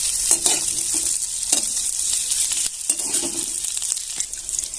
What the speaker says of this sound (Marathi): बटाटे छान असा फ्राय करून घ्यायचे